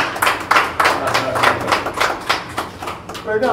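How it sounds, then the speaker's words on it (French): An audience applauds at an inauguration ceremony for a regional office in Cotonou, with a burst of rhythmic, fairly close hand clapping and voices mixed in. "Ça s'applaudit une fois encore."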